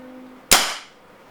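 Single sharp shot from an upgraded Honorcore Scarab Arms TGR2 airsoft rifle, a loud close crack with a short fading tail after a quiet lead-in.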